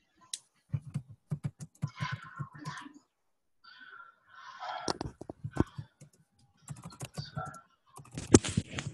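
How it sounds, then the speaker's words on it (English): Rapid keyboard typing, clicky keystrokes in bursts with short pauses, fairly close, with other faint desk noises mixed in. "And I hear people typing."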